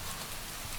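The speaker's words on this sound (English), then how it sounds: "the rain had deepened to a steady curtain" Steady rain falls in a continuous soft wash, a dense, even hiss with faint low patter running through the whole stretch and no voices over it.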